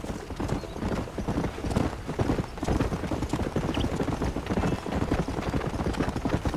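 Horse hooves clip-clop steadily in the Red Dead Redemption video game, a brisk, even trotting rhythm that runs the whole time, with a faint snort or whinny mixed into the continuous hoofbeats.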